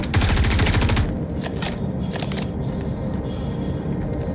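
Rapid automatic gunfire from an online FPS firefight in the video game Star Citizen, a dense burst at the start followed by scattered sharp shots over a continuous loud background.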